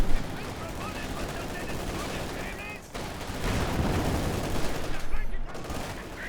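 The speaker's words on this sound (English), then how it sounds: "Machine guns and mortars do a pretty good job covering the map" Dense battlefield gunfire in the strategy game Company of Heroes 2, with machine gun bursts and heavier booms, continuous and fairly loud under a commentator's voice.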